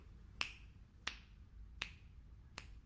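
Four sharp, evenly spaced hand claps ring out on their own, close and crisp, each a single quick snap with quiet gaps between.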